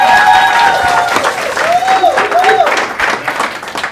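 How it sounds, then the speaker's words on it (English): A crowd at a team meeting breaks into loud, close applause with some cheering and whoops, steady clapping throughout while voices call out over it. "give the ALC a big round of applause"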